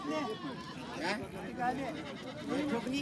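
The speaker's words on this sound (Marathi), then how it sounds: "दुधाची शेळी आहे, प्युअर गावरामध्ये आहे" A goat bleating at a village goat market, with short bleats heard close by beneath a voice talking to the camera.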